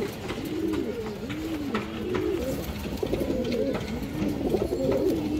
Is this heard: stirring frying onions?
no